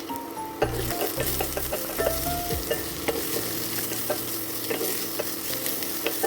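Onions fry and sizzle in a pan with a steady, close hiss while a utensil stirs and scrapes through them in brief knocks, in a kitchen making fish intestine fry with semolina.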